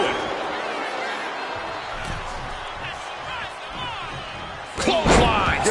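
A clothesline slam in the WWE 2K25 wrestling game lands near the end as a loud, sharp impact with a crowd surge, following several seconds of steady arena crowd roar and commentary.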